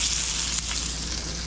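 Meat patties fry in a pan with only a little oil over low heat, giving a steady, dense sizzle that stays close and fairly loud for the whole moment, with no voices over it.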